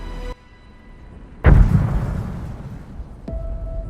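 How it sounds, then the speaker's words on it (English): A plane struck by a missile gives a single loud, deep explosion that booms and then rumbles away, followed later by a sharp smaller crack. "Passengers reported hearing a loud explosion, followed by shrapnel tearing through the cabin."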